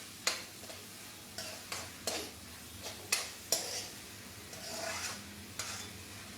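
Pav bhaji vegetables fry and get stirred in a pan during a live cooking session, with a steady low sizzle broken by repeated scraping spoon strokes at an irregular rhythm, close and moderately loud, with no talking.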